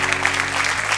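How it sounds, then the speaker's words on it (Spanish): A burst of steady clapping from a crowd, dense and continuous throughout the short moment. "Denle un aplauso a él"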